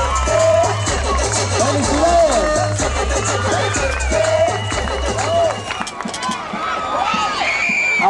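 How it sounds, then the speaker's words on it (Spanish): A crowd at a neighborhood singing contest final cheers and applauds for a singer over loud music with a thumping bass beat, the noisy babble and shouts staying strong throughout. "¡Un aplauso para Dani!"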